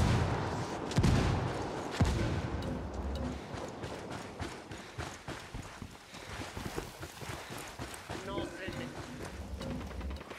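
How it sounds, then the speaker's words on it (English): Indirect artillery fire called in from rebels in Ghost Recon Wildlands thuds and booms amid scattered gunfire, with a couple of heavy impacts early and a rough, busy battle din continuing after. "I called the rebels for some indirect fire"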